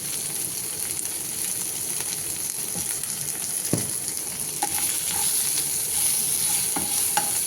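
Paneer fries in a pan with salt, pepper powder and turmeric, producing an even, close sizzle with a few spatula scrapes and taps and no speech.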